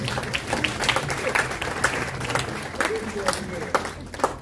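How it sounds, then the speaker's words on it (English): Applause from the audience at an Eastern Caribbean Supreme Court youth leaders symposium, a crowd's clapping with distinct sharp claps standing out from a softer wash throughout. "a round of applause for that"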